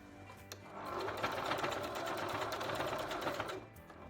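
A sewing machine running steadily for about three seconds as it stitches trim into lace, a close, even whirring hum that starts and stops cleanly, no speech.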